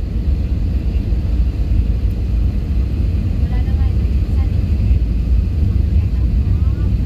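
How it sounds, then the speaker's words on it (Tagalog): Inside an airplane circling before landing, a constant loud low engine drone and cabin rumble fills the whole stretch, steady and close, with no talking. "Ayan, umiikot na yung eroplano na sinasakyan ko."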